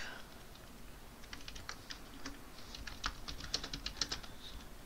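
Quick, light keystrokes tap on a computer keyboard in an irregular burst while writing HTML paragraph code, close and soft, without speech over them.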